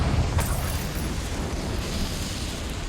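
Confringo fire spell exploding in Hogwarts Legacy, a loud low boom that rumbles on steadily for a few seconds with no voices over it.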